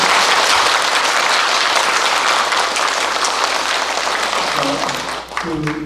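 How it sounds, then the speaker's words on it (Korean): A crowd at a Buddhist Dharma talk gives loud, sustained applause, a dense wash of clapping that fades slightly near the end as a voice begins to speak. "여러분 다시 한번 큰 박수로 감사합니다"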